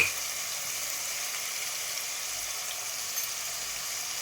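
Chopped tomatoes sauté in a pan for a prawn gravy, giving a soft, steady sizzling hiss throughout with no clear stirring strikes and no voices.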